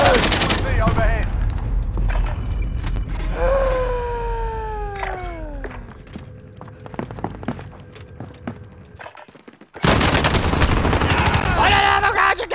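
Gunfire in the video game Call of Duty: Modern Warfare cracks in repeated bursts amid descending whistling tones, scattered sharp impacts and game effects, ending in a loud, dense volley.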